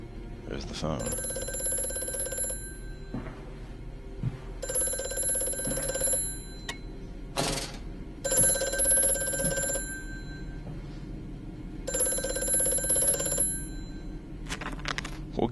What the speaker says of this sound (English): We'll get to the phone in a minute.